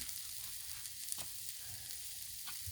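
Sausage frying on a Blackstone griddle outdoors on a hot day, a steady close hiss of sizzling fat with a few faint pops and scrapes, no one talking.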